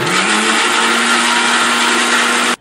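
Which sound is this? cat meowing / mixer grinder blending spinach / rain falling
mixer grinder blending spinach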